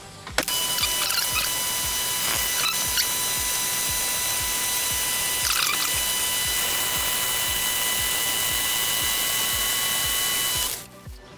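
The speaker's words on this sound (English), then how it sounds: "So let me do a quick facing cut" A WM250V metal lathe with a fixed toolpost taking a facing cut on metal: a loud, steady mechanical whir with a faint ringing whine that runs for about ten seconds, then cuts off.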